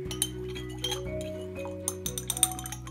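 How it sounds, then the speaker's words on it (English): A glass stirring rod stirs dye into a homemade strawberry kiwi conditioning hair treatment. It gives a series of light, close clinks and taps against the container over a low steady hum. "I'm gonna get a little bit of the dye on this stirring rod"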